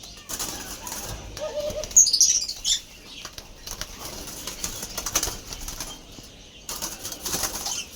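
Doves, including white ones, burst into flapping flight as they are released from their cages, with a loud flurry of wingbeats near the two-second mark and softer fluttering before and after. No one speaks.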